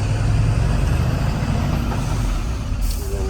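A fully loaded truck runs with a loud, steady engine roar that fills the cab, a constant low rumble with a faint whine near the end, and no voices.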